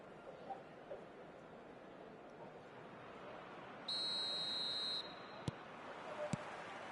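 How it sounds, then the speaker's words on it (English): Referee's whistle in eFootball 2026 on PS5 signals the start of the second half, a steady shrill tone lasting about a second over low crowd ambience, followed by a couple of faint clicks. "Whistle goes, and we start the second half."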